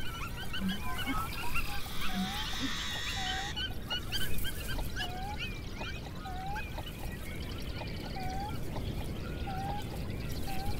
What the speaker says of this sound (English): A dangerous time for a family of Canada geese.